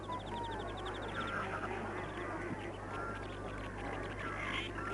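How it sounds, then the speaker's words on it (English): Freckled ducks call repeatedly amid a dense chorus of other birds, with a steady low hum underneath and a faint rapid chattering call near the start. "These are freckled duck."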